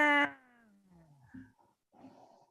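A cat gives one loud, drawn-out meow that slides downward in pitch, followed by a few faint, softer sounds close by.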